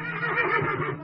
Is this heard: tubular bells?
no